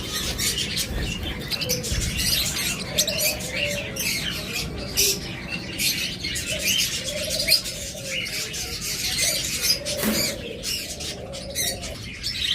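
Caged pet lovebirds and budgerigars chirp and squawk continuously at a market in a dense, busy chorus, with some coos and wing flutters mixed in.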